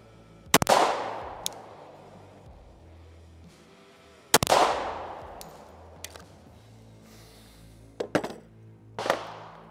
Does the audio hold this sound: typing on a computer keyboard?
no